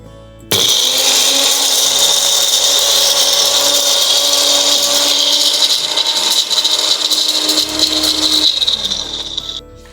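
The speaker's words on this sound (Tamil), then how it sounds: "இது எல்லாத்தையும் நம்ம இப்போது நீர் விட்டு அரைச்சிடலாம்." An electric mixer grinder blends black cumin seeds and fenugreek with water into a paste, a loud steady whirring roar with rattling that starts abruptly and winds down near the end.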